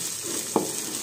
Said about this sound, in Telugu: అల్లం వెల్లుల్లి పేస్ట్ కొంచెం పచ్చివాసన పోయేదాకా వేయించుకోవాలి